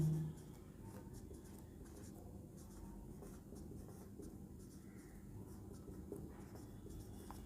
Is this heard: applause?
no